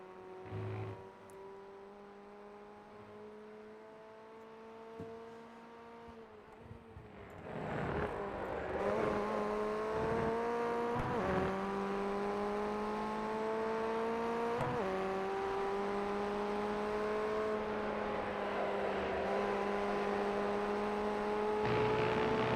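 A Formula Ford 1600 race car laps Lime Rock Park in the iRacing sim. The engine drone climbs steadily in pitch and drops sharply at each gear change, close and continuous, with no talking.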